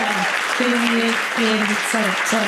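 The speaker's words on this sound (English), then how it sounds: "Please give them a big round of applause." A crowd at an awards ceremony applauds steadily and fairly loudly, with a few sustained tones or voices running over the clapping.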